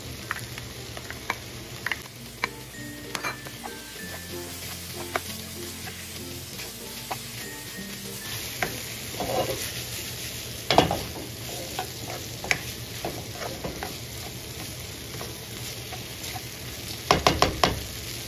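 Mushrooms and ham frying in a pan, a steady close sizzle with the knock and scrape of stirring and a few sharper clinks near the end; no talking.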